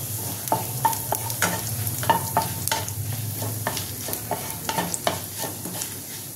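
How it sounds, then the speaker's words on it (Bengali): Dried red chillies and whole cumin tempering in hot oil for dal fry, a soft sizzle beneath repeated sharp clinks and taps of a spoon against the pan, close and steady with no talk. "আমি শুকনো লঙ্কা ফোড়ন দেবো আর গোটা জিরে দেবো"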